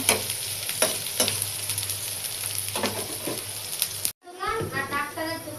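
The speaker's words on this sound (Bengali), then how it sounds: "দিয়ে দিলাম একটু তেল আর হলো রসুন, পেঁয়াজ, এটাতে আমি ফোড়ন দিব" Garlic and onion sizzle and spit in hot oil in a pan, a loud, close, steady crackle that cuts off abruptly, after which a voice speaks over a quieter background.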